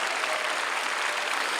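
A congregation claps together at a peace and reunification prayer rally held at the War Memorial in Yongsan, a brief, dense burst of applause at moderate level.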